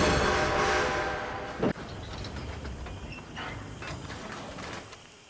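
A train rumbles along in Red Dead Redemption, a heavy steady roll with a sharp hiss or clank partway through and fainter rhythmic clatter afterward, heard alone without speech.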